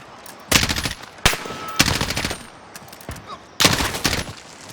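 Automatic gunfire in Call of Duty: Modern Warfare (2019) comes in three loud, rapid bursts separated by brief pauses, with a few fainter shots in between.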